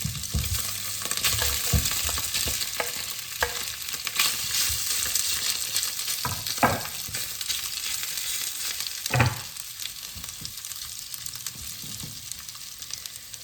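Sausage-meat meatballs frying in vegetable or sunflower oil, a steady crackling sizzle close by, punctuated by occasional scrapes and knocks as they are moved in the pan; no voices.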